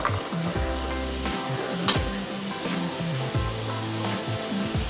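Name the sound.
sautéing vegetables in a pan for veg biryani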